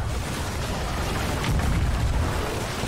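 Ship cannons firing in the pirate video game Sea of Thieves: a steady, loud booming roar with a heavier burst of blasts midway and no talking.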